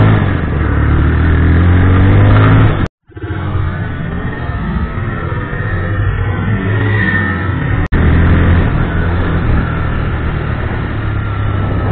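Motorcycle engine droning steadily while riding and leaning through bends, loud and close with heavy wind rush, briefly cutting out once and then resuming.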